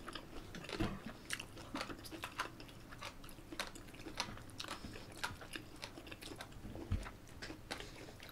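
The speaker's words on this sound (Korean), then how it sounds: "무말랭이 씹는 소리 가까이서 들려주면 오질 듯이래." Dried radish strips being chewed right at the microphone, with crisp, crunchy bites and wet mastication repeating steadily and closely, with no talking.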